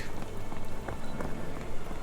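Rain falls on a street in the video game Sherlock Holmes The Awakened, a continuous patter of drops over a low rumble, moderately loud and without speech.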